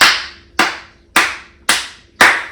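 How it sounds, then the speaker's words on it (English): Five sharp, single hand claps land alone at an even, slow rhythm, each loud and close with a short ringing decay before the next. "Clap it up for the defense."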